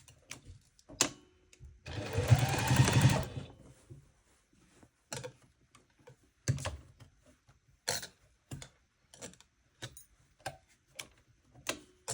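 A sewing machine stitching a double wedding ring quilt runs in one short close burst, followed by scattered clicks and taps from handling the fabric and machine.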